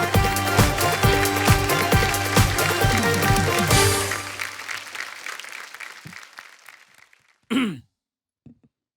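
Comedy show audience applause mixes with a loud burst of band music for a few seconds, then both fade away, leaving near silence and a brief vocal sound.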